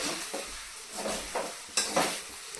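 Khichdi being stirred in a pan after crushed peanuts go in: a few distinct scraping strokes of a spoon over a soft sizzle, close and moderately loud, with no voices.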